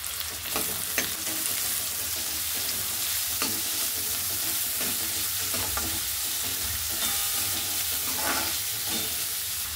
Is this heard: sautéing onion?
yes